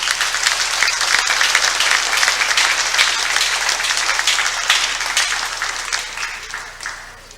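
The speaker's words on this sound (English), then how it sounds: "Let's give them all a big round of applause." An audience at a girls' swim team parent night claps warmly, steady applause from a crowd that gradually thins and fades out at the end.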